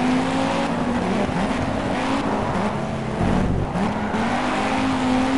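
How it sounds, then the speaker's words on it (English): A Formula 1 race car in the rain in the Project Cars video game, its engine a loud, steady droning roar with shifting pitch and no talk. "All I can hear is the car."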